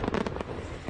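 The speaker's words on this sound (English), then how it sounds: "The 4th of July holiday is synonymous with fireworks." Fourth of July fireworks bursting, a rapid cluster of loud cracks and pops up front that trails off into a softer rumbling decay.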